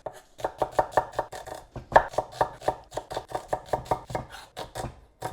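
A knife thinly slicing a halved vegetable on a board for pakoras, a rapid run of crisp, evenly spaced chopping taps, close and fairly quiet, with no talking.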